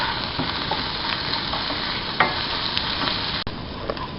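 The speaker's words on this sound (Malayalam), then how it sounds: "വെളുത്തുള്ളി ചതച്ച് വെച്ചതും ഒരു ചെറിയ കഷ്ണം ഇഞ്ചിയും ചേർക്കുക. ഇത് നന്നായി വഴറ്റിയെടുക്കുക." Crushed garlic and a small piece of ginger sauté in a pan, giving a continuous bright sizzle with occasional scrapes and taps of a spoon stirring, close and fairly loud, with no talk.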